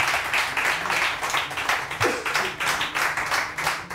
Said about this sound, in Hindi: आपकी भरपूर तालियों में डॉक्टर जमील राठौड़ साहब।